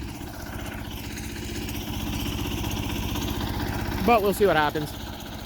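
A Sears Suburban garden tractor engine idles cold and very slow with a steady low, chugging pulse throughout, while a person talks over it near the end.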